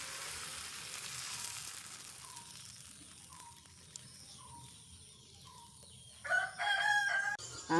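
Rava dosa batter sizzles faintly on a hot stone griddle as a soft, steady hiss in a quiet village home, while roosters crow repeatedly in the background.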